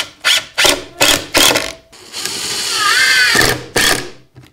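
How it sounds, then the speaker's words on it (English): Screws are driven into a wooden jig with a power drill, in several short, sharp bursts, then one longer whirring run that ends with a couple more quick bursts, all close by. "So I'm going to go ahead and glue this in and put some screws in"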